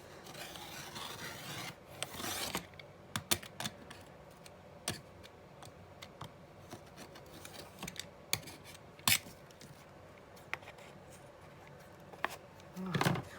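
Scissors cut through fabric up close in a quiet room, with scattered sharp snips and soft rasping drags separated by pauses, plus a few louder handling rustles.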